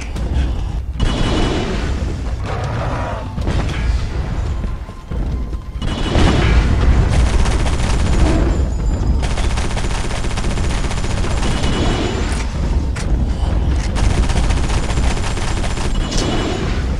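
Shotgun fire and other weapon blasts from the video game Area 51, a dense run of loud, overlapping booms and bursts with brief lulls, continuing almost without a break.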